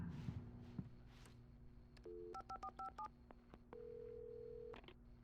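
A telephone keypad is dialed in the Alan Wake video game: a quick run of short two-tone beeps followed by a longer sustained tone, clear and close over quiet background thumps.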